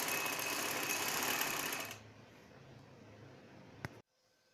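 An electric sewing machine stitches the folded hem of a baby frock, turned about 1.25 inches inward. It hums fast and steady for two seconds, then drops to a quieter idle, ending with a click and silence.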